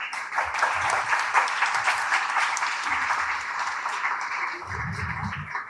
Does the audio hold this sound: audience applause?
yes